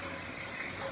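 Water pours into a cooking pot over fresh greens, making a soft, continuous gush that stays faint and even throughout.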